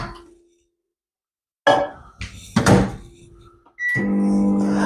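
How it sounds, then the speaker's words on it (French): Microwave oven heating milk in a home kitchen, its steady hum running loud and close after a few clunks of the door and handling. "On va faire ça au micro-ondes rapidement."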